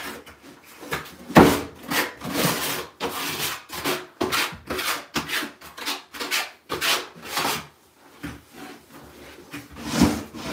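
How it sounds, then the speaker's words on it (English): A trowel scrapes and rubs thin-set mortar into a shower floor substrate in short, repeated gritty strokes with uneven pauses, close and moderately loud. "Just always use the back side of your trowel and just work it into the substrate."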